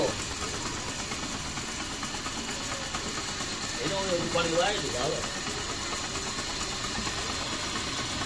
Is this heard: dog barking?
no